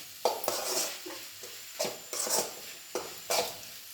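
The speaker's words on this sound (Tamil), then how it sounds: "தேங்காய் பூ கொஞ்சம் கருவேப்பிலையும் போட்டு ஒரு வதக்கி" Amaranth greens tossed with grated coconut and curry leaves in a pan while being sautéed: a spatula scrapes and knocks against the pan in a loose rhythm of about eight strokes, close by and without talk.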